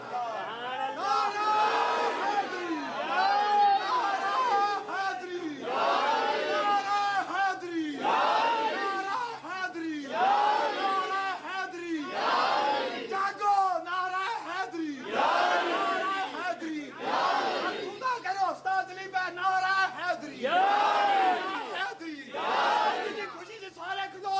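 A large crowd at a religious gathering marking Hazrat Ali's birth shouts responses to a slogan in loud, rhythmic bursts, repeated about eight times in quick succession, echoing through a hall with constant voices throughout.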